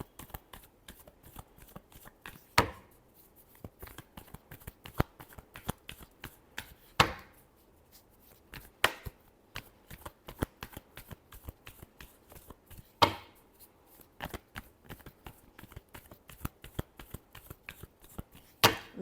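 Tarot cards being shuffled by hand, a rapid series of crisp riffling and slapping bursts with a few louder flurries, close and otherwise quiet.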